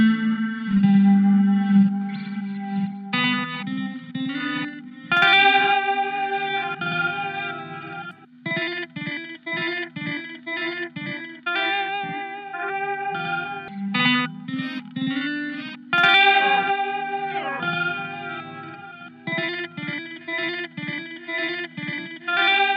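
Music samples run through a delay guitar pedal: layered melodic notes and chords with echoing repeats, chorus-like shimmer and some distortion, playing continuously and fairly loud with no talking.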